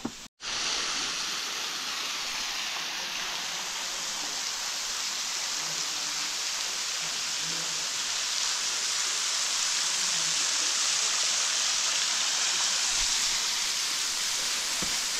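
Steady, dense roar of a waterfall pouring down close by, heard from near its base, broadband and continuous without breaks.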